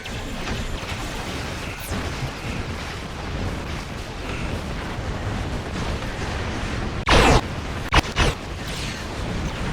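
Torpedo explosions in Star Trek Online strike as two loud bursts about a second apart, cracking over a continuous dense rumble of space battle noise.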